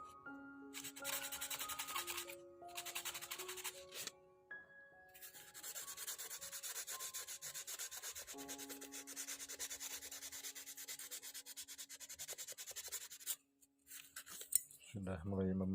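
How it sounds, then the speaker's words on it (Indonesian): Sandpaper rubbing over a small handmade micro termite fishing lure, a continuous close scratchy rasp with short strokes and brief pauses, fairly quiet, with a louder knock near the end. "Kalau sudah berbentuk seperti ini tinggal main amplas aja ya"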